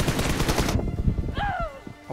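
Rapid automatic gunfire in the PUBG battle-royale video game, a loud dense burst of shots that cuts off abruptly, followed by someone talking.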